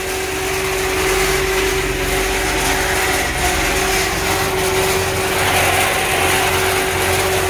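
A steady tractor engine drone runs throughout with a constant mechanical hum, loud and close, while cutting grass in Galicia, with no talking.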